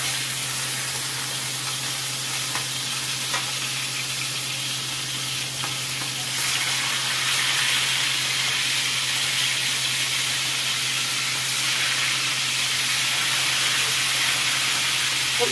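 Pork belly seasoned with garlic, ground pepper, fish sauce and vinegar fries in oil with a loud, continuous sizzle and hiss that swells midway, close up and without talk.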